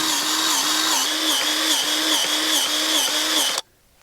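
High-pressure grease gun loaded with a grease cartridge, running in a workshop: a loud, steady motorized whir with a faint regular pulse, continuing alone for about three and a half seconds before cutting off abruptly to silence.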